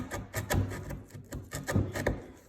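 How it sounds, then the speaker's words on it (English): Hand sanding with a sanding block on a part during a Polaris RZR XP 1000 Ride Command retrofit, a series of soft rasping back-and-forth strokes in an uneven rhythm, close and fairly quiet, no voices. "then we're gonna go back to our sanding block"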